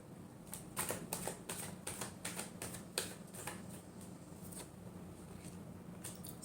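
Tarot cards being shuffled, a run of soft, quick papery riffles and taps with short pauses between bursts, close and fairly quiet with no talk.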